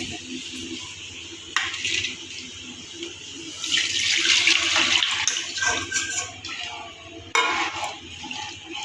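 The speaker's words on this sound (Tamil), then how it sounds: "இப்போ குழம்பு சேர்த்து வச்சதை எடுத்து நான் ஊற்றுறேன்" Curry liquid poured from a vessel into fried onions and tomatoes in a pan for a village fish curry, a loud close splashing and gurgling rush that swells and then tapers.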